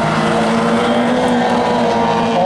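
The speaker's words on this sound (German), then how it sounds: "Der junge Lukas Kornering hat reichlich Schub mitgenommen aus dieser Kurve" An autocross race car at Seelow powers out of a curve with a loud, sustained engine roar that holds steady and close throughout.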